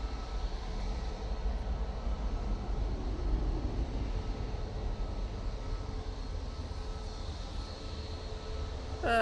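An airliner taking off from Manchester Airport bound for Dublin gives a continuous low engine rumble with a broad roar on top, steady and moderately distant throughout, with no voices.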